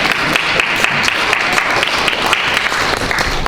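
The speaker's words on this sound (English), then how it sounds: "Yes, round of applause." An audience at a public commission meeting in a historic house museum claps steadily, a dense, close round of applause lasting throughout with no voices.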